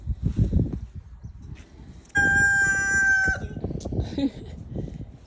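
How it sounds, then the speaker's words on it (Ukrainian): A rooster crows once in a long, loud cock-a-doodle-doo midway through, with voices and household noise before and after it. "Півень співає."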